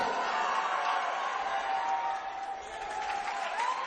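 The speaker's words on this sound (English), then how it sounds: "the crowd's starting to get into it now" Crowd in a high school boys basketball gym roars and cheers steadily, a dense sustained wash of voices and whoops with a slight dip midway, fairly close and continuous.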